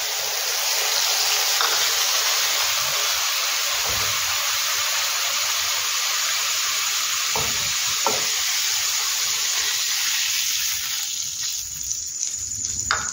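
A spice paste mixed with water poured onto hot oil, a loud, steady hiss and sizzle close by that runs for many seconds, with a few faint stirring clinks.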